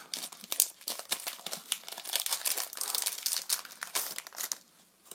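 Crinkly plastic packaging of a Pokémon XY12 tripack, held shut with tape, is pulled and torn open close by, giving a continuous run of crackling, crumpling and ripping rustles with no voices.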